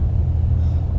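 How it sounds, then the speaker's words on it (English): Thunder rumbles in the Subnautica Below Zero video game, a steady, loud, deep low rumble sustained throughout with no voices over it. "That's thunder, I mean."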